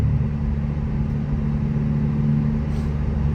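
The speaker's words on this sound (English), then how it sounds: "Now we give it gas, and clutch in, second gear, clutch in, third gear" A 2024 Honda Civic Type R FL5 with a manual gearbox drones steadily from inside the cabin, its engine rumbling loud and even under acceleration with no voices over it.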